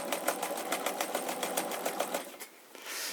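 A Necchi Supernova sewing machine runs close by with a rapid, even mechanical patter of stitching for a few seconds, then stops and leaves a soft hum.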